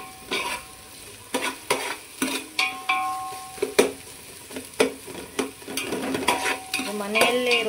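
Chopped onions sizzling in a pan for a chicken green masala, a steady fry broken by repeated sharp scrapes and stirs of a spoon against the pan, close and clear.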